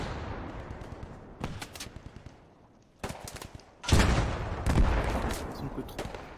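Gunfire in the World War II shooter Post Scriptum, with rifle and machine-gun bursts and a heavy cannon nearby, coming in rapid clustered volleys that grow louder and denser toward the end, mixed with faint voices.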